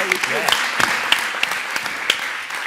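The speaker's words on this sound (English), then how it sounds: "Big round of applause for our panel" Applause from the audience for a panel at a design debate festival, with scattered, distinct claps over a steady crowd wash and a voice speaking early on.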